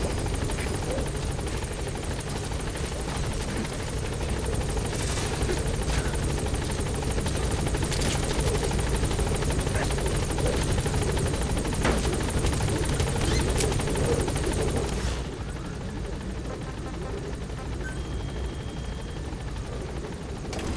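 Pequod helicopter hovering at a landing zone in the Metal Gear Solid V game, a loud continuous rotor roar that drops to a lower, quieter drone for the last few seconds.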